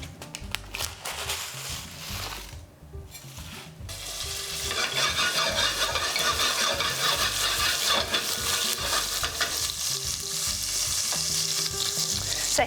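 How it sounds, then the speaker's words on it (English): Chilies and a teaspoon of cumin seeds frying in hot oil in a pan, a loud, dense sizzle with crackles and stirring scrapes that briefly drops off, then returns stronger and continues steadily. "They're starting to get hot and they're starting to sizzle."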